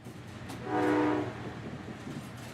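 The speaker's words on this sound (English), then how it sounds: "He ran over Riker and Elias as they played a train chugging sound effect." A train sound effect plays in a wrestling arena broadcast, a rumbling, chugging train with a horn-like blast that swells to a peak in the middle and then fades under a steady background rumble.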